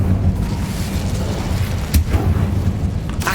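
A fiery spell burst in the Hogwarts Legacy video game, a heavy booming blast over a steady low rumble, with a sharp crackling flare near the middle and another at the end.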